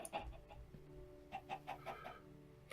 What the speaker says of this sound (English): So this is chickens.